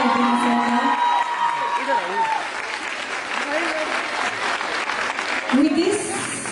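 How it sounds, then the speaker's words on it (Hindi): Audience at a Women's Day celebration applauding and cheering to welcome a speaker, sustained crowd clapping with occasional whoops, while voices speak over it. "एक बार जोरदार तालियों से स्वागत करते हैं और शुक्रिया करते हैं सर का।"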